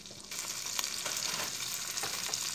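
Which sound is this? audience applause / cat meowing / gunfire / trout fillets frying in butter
trout fillets frying in butter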